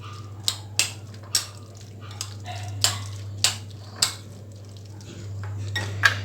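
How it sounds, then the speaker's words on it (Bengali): A spoon mixes a homemade veg sandwich filling with chili in a bowl, giving intermittent sharp clinks and scraping over a steady low hum. "নিয়ে এটি ভালো করে মিশ্রণটি মিশিয়ে নেবেন"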